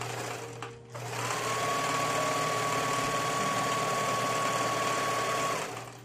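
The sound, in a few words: sewing machine stitching a flannel drain bag pillow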